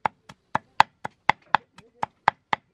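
Steady knife chops on a board, mincing lemongrass, about eleven sharp strikes in quick, fairly even rhythm, close and clear with nothing else around them.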